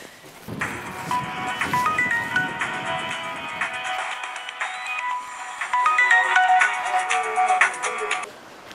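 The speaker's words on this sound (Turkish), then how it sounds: "Götür de telefonu sende." A telephone ringtone plays a bright repeating electronic melody loud and close, with some shuffling noise at the start before it carries on alone and cuts off abruptly.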